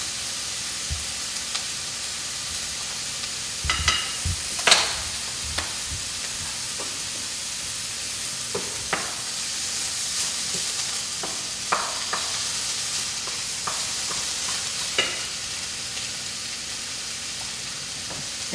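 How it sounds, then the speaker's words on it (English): Broccoli with dried parsley sautés in a pan, a steady close sizzle and hiss punctuated by scattered scrapes and taps of stirring. "you want to saute this for just a couple minutes, kind of infuse that flavor into the broccoli"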